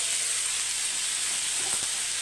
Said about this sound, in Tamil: இப்போ வந்து தக்காளி வதங்கிட்டு இருக்கு